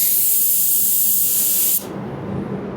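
A paint spray gun set to a widened fan pattern blasts a loud, steady hiss for nearly two seconds, then cuts off abruptly, leaving a softer airy rush.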